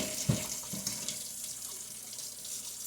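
Warm tap water runs into a sink while canned tuna is rinsed, a close steady faucet stream with a few splashy knocks near the start.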